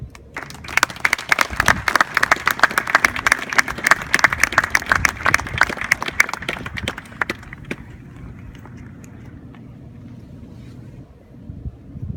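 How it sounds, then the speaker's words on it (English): An audience applauds at a military ceremony for the combat instructors of Infantry Training Battalion Alpha Company. The dense, sustained clapping from a large crowd fades after about seven seconds, and outdoor wind noise continues once it has died away. "Please join us in applauding the efforts of the combat instructors and personnel of Company A."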